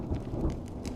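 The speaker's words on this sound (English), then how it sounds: "When will this rain ever stop?" Steady rain with low rumbles of thunder in the game Honkai: Star Rail, a soft, continuous patter with faint deep booms beneath, with no voices.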